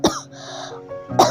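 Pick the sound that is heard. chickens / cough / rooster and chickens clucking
cough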